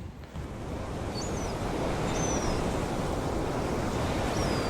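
Steady roar of the ocean surf at Nazaré, known for huge waves driven by an underwater trench; a broad, constant wash of breaking water with wind buffeting the microphone and faint high bird-like calls above.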